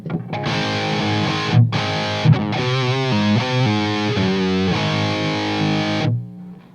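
Electric guitar through an all-tube preamp pedal set for hot-rod Marshall distortion plays chunky chords and a short riff, thick and saturated, loud and up front, ending with a ringing chord.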